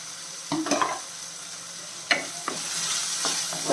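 Crushed ginger and garlic sauté in coconut oil in a clay pot, a steady sizzle running throughout with a few bursts of stirring scrapes near the start and midway.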